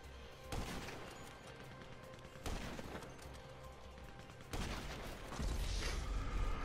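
Sniper rifle gunfire in GTA 5, loud sharp reports at roughly two-second intervals, each followed by a rumbling tail, with more game noise building toward the end.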